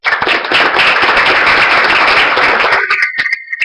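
An audience gives dense, loud applause for Pedro Gómez, which thins out near the end into a few scattered claps.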